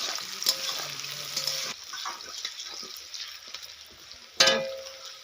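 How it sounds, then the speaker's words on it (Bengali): Sliced onions frying in oil in a kadai with chilies, a soft, uneven crackle and sizzle with scattered pops and a brief sharp burst near the end, fairly quiet overall. "পেঁয়াজ দিলাম, পেঁয়াজটা দিয়ে ভাজি নেই।"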